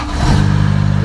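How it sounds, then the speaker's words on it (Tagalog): Idling truck engine with a noisy refrigeration unit, parked at the roadside among other trucks in Europe; a steady low drone rises briefly then holds, loud and close, with no voices. "Lumayo-layo talaga ako kasi ito, maingay yung makina ko dito eh."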